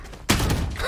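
Satchel charge detonating in a tactical shooter game, a single sudden loud burst that cuts in sharply and carries on as a broad roaring blast.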